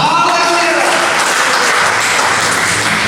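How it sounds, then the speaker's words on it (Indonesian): A church congregation at a Sunday service claps and applauds in a dense, loud, sustained wash of hands that fills the room, with voices mixed in underneath. "tepuk tangan buat nama Tuhan"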